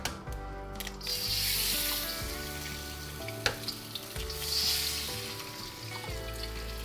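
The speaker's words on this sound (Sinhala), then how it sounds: "ඔන්න මේ විදිහට බිත්තරේඩි දෙකක් දාගත්තා." Two eggs frying in oil in a pan for fried rice, a steady loud sizzle and crackle that holds throughout, close up, with a low hum beneath and no talk.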